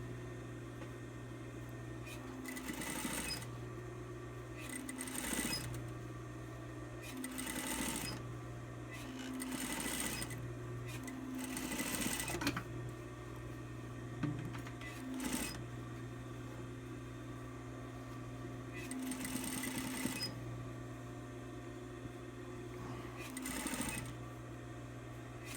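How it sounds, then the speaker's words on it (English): A sewing machine runs a top stitch along fabric in repeated bursts of a few seconds each, with brief pauses between runs and a steady close hum throughout. "flip your fabric up, make sure everything's nice and solid in there, and sew your top stitch"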